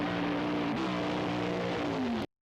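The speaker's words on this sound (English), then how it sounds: "Johnsy with a 504 cubic inch Oldsmobile swings it hard. Big RPM in the burnout." A 504 cubic inch Oldsmobile drag car roars at high RPM during a burnout, a loud sustained engine howl with a brief dip and rise in pitch before cutting off abruptly.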